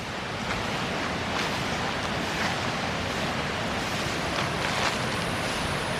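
Steady, roaring rush of water from Pha Lat waterfall in Lan Sang National Park, Tak, Thailand, constant and broadband with no pauses, heard nearby with some wind buffeting.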